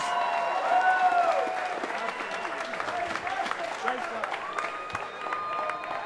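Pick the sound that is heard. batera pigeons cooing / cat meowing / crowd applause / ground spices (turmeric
crowd applause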